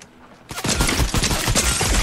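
Dense burst of rapid gunfire in Fortnite, starting abruptly after a quiet half-second and continuing as loud, overlapping shots and automatic fire to the end.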